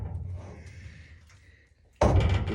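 A car door on a 1969 Chevy Nova under restoration swings shut with a single solid slam near the end, loud and close after a quiet lead-in of faint shop noise.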